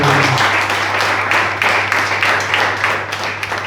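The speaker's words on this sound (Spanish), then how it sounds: "¿Cuánto le dan un aplauso al Señor?" A church congregation applauds together, a dense steady patter of many hands filling the room, with a low steady hum underneath throughout.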